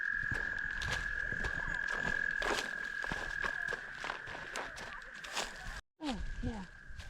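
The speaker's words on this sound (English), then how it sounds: "There are so many toads." Toads trill steadily in a Michigan woodland along the North Country Trail near Kalkaska. A long, even call runs nearly throughout, with footsteps and a people talking over it before a brief gap near the end.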